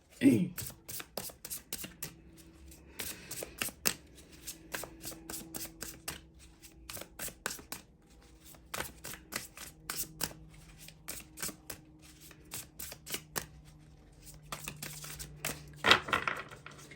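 Tarot cards being shuffled and drawn during a reading, with rapid repeated riffling and flicking bursts that continue through the whole stretch, close and fairly clear, with someone speaking now and then.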